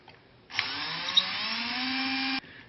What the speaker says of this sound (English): Simply take a drill or a screwdriver with a Phillips head,